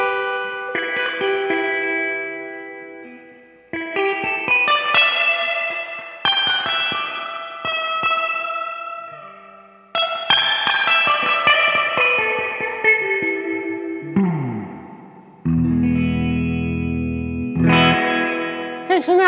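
Spring reverb in a guitar amp cranked to maximum, strummed chords and picked notes splashing into a long, dripping wash with heavy hiss, ending in a loud low boing-like crash and a final ringing chord, no talking.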